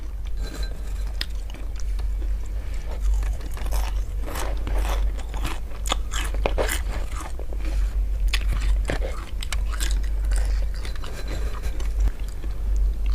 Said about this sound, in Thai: กินทั้งเปลือกเลย